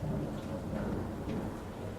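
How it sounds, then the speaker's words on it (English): Loud, continuous low rumble of thunder rolling through a storm, filling the whole stretch with a deep, steady roar and faint rain texture during an outdoor golfing session. "Whoa, that was thunder."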